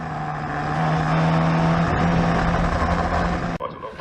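Historic Formula Ford race cars at Snetterton pass loudly with a sustained, close engine drone that shifts pitch as they go by, then cuts off abruptly near the end; a commentator talks over it.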